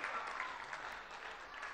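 Audience applause at a poetry and ghazal event, a steady dense wash of clapping from a crowd that holds at an even, fairly loud level throughout.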